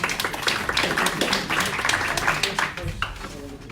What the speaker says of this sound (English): big round of applause for Kieran